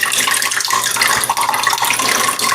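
Water pours out of a container in a steady, loud broadband splash, running continuously and close by with no talking.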